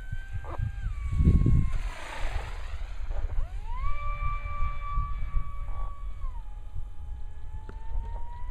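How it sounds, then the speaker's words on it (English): The electric motor of a fast RC pylon racer plane whines at a distance, its high tone sliding up and down as the plane passes and turns, with wind rumble near the microphone. "That Steve New motor sure runs good"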